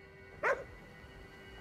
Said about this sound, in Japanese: 何に向かって吠えてるんだ。